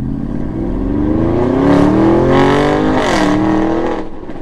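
A 2019 Porsche Cayenne Turbo revs with its sport exhaust open, the loud, close engine note climbing through two or three rising blips before easing back, with no talk over it.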